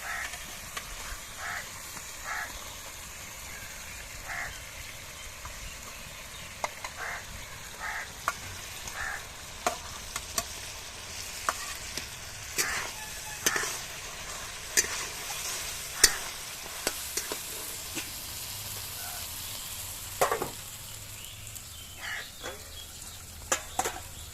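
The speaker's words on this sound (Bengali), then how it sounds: "এবার আমি ভাজা আলুগুলো দিয়ে ভালো করে কষিয়ে নেব।" Fried potatoes are stirred into spice paste for a Bengali fish curry, with a soft constant sizzle broken by irregular spoon scrapes and clicks against the pan, close and fairly quiet, with no talking.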